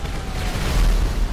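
Explosion in GTA Online during a heist against an armored truck: a deep, rumbling blast that builds toward the end of the clip, heard alone with no talking.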